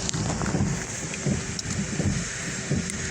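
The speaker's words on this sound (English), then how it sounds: "can you hear that it's raining outside?" Steady patter of rain on a car's windshield, with soft low thumps of the windshield wipers recurring under a constant hiss; no voices.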